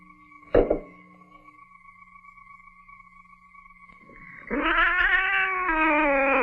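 A woman imitates a cat, letting out a loud, drawn-out yowling meow that swells and holds near the end, after a brief thump and a quiet stretch with a steady tone in an old horror film scene.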